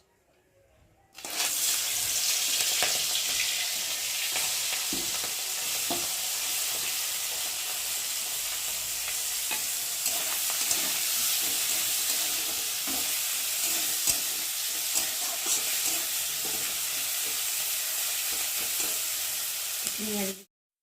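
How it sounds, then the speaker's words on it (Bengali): Prawns fry in hot oil in a wok, a loud, steady sizzle that starts abruptly and continues unbroken, with faint stirring clatters underneath. "এখন এই যে কেটে রাখা চিংড়ি মাছগুলোকে দিয়ে ভালো করে ভেজে নেব"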